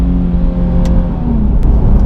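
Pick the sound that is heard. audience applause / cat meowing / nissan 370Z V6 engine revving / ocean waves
nissan 370Z V6 engine revving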